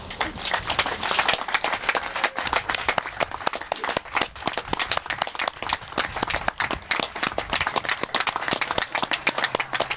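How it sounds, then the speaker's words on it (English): A crowd at the Groveland Resilience Center groundbreaking gives sustained applause to the GCSD board and staff, dense hand clapping that stays loud and steady for ten seconds, mostly without talking. "please rise so we can applaud you"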